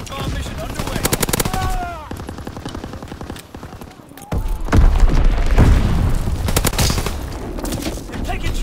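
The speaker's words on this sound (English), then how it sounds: "Azon bomb mission underway." Azon bomb blasts and rattling gunfire in Call of Duty WWII, with rapid machine-gun bursts followed by heavy booming impacts that grow louder midway, and game voices calling out over the battle.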